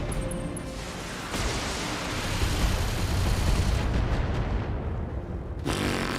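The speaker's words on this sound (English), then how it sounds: "It shot down every single missile." Anti-missile defense in a video game firing at incoming missiles: a dense, sustained roar of rapid gunfire and booming blasts runs loud and continuous, ending in a brief dip before resuming.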